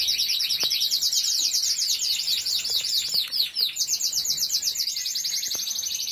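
Pet songbirds kept for breeding and training sing continuously in dense, overlapping high twittering trills, loud and close, with no talk.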